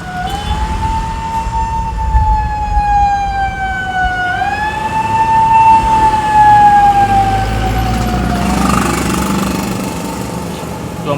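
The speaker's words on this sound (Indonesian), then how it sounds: "Itu ambulans ketiga malam ini." An ambulance siren passes along a road at night, its wailing tone rising and falling loudly and close by, with a low engine rumble underneath before it fades slightly toward the end.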